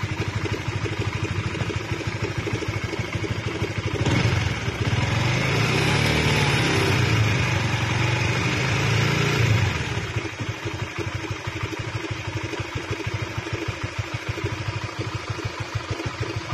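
Motorcycle engine, a CB150, idling loudly and steadily, with rapid metallic knocking and clatter from a worn timing chain tensioner, and a brief rise in revs midway.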